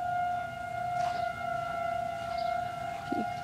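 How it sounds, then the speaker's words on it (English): Tornado warning sirens, including a Federal 2001, wail steadily nearby with sustained tones, while fainter sirens drift in from farther off. "You can hear the other sirens in the nearby."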